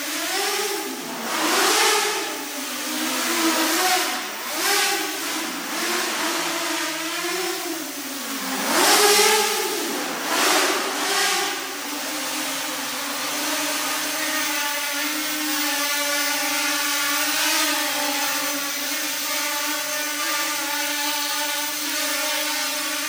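An Armattan M230 quadcopter drone's oversized motors whine loudly, rising and falling in pitch as the throttle surges in repeated bursts. Then they settle into a steady, high sustained buzz, close by and with no talk.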